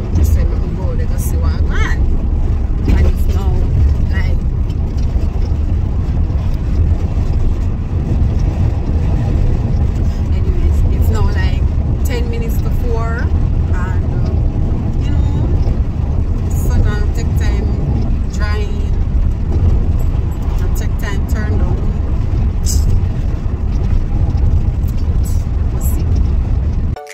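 A car driving along a road in St. Elizabeth, Jamaica, heard from inside as a loud steady engine and road rumble lasting the whole time, with faint scattered clicks over it.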